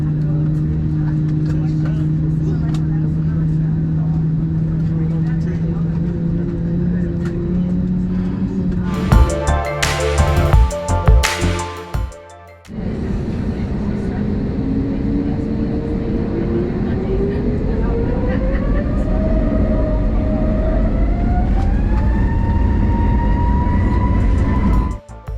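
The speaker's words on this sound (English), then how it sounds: "After a short taxi and a fun takeoff" A Frontier Airlines jet taxis with a steady low engine rumble, then a loud clattering burst of wind or mechanical noise, followed by engines spooling up with a rising whine into a loud takeoff roar.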